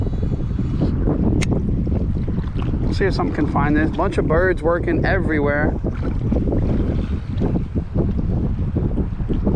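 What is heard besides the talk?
strong wind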